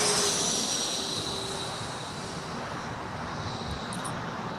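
A Japan Airlines Boeing 787-9 Dreamliner landing at LAX after a flight from Tokyo, a steady broad jet roar that fades slightly as it passes, with no voices.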